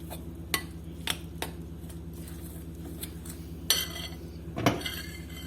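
Pakora batter being mixed in a bowl after a little water goes in, heard as quiet, scattered clinks and taps of a spoon against the dish over a faint steady background hum.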